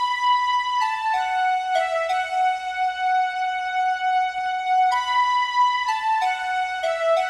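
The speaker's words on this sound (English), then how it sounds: "So here's the flute and string sounds." Sustained synth melody on flute and string patches, held tonal notes stepping between pitches with bright upper harmonics, steady and clear with no voices.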